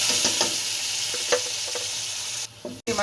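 Tomatoes frying with onions in hot oil in a kadai, a steady close sizzle with intermittent stirring scrapes and clinks throughout, briefly dipping near the end before the sizzling resumes.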